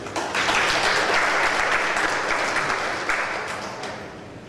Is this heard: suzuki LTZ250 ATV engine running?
no